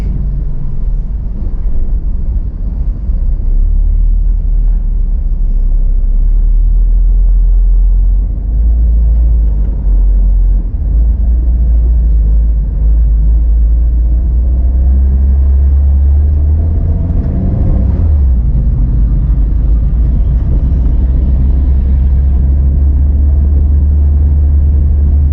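Busy street traffic on C.M. Recto Avenue in Cagayan de Oro City, a steady loud low rumble of car engines running throughout, with a vehicle passing close by near the middle.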